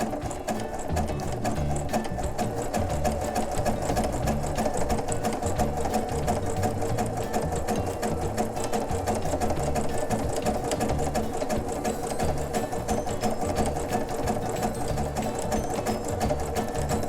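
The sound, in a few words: sewing machine stitching a horse tail bag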